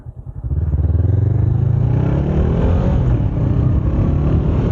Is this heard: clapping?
no